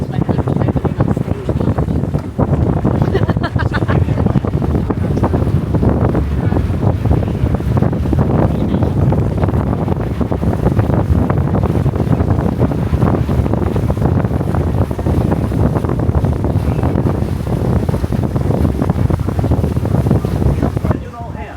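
Boat ride on open water near the Grand Floridian at Disney, with heavy wind buffeting the microphone, a low engine rumble and water rushing throughout while people talk intermittently.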